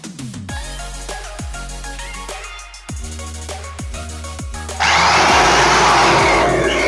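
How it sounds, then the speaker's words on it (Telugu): A power drill bores holes in wooden bedroom doors, starting as a loud, steady whine about two-thirds through after a stretch of busy mixed workshop noise with sharp knocks. "మిషన్లు అవి పెట్టేసి డ్రిల్లింగ్ మిషన్లు అవి"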